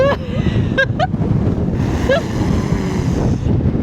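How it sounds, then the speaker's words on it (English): Strong wind buffets the microphone in a constant roar on a cruise ship's top deck, with a few excited voices calling out over it. "Oh my God, it's so windy!"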